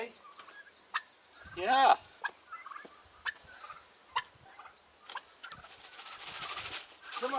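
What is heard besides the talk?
turkeys gobbling while let out to forage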